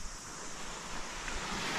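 Ocean waves breaking on a secluded New Zealand beach, a steady loud wash of surf mixed with wind noise, heard alone without talk.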